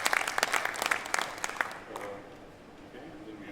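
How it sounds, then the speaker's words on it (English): Audience applause at a cybersecurity conference panel, loud rapid clapping that thins out and dies away halfway through, leaving quiet room noise. "So a round of applause for her,"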